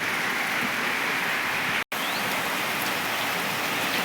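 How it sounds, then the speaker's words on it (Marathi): Steady rain pouring outside a cattle shed, a dense even hiss of drops on surfaces, close and constant, briefly cutting out for a moment before resuming. "बाहेर पाऊस चालू आहे"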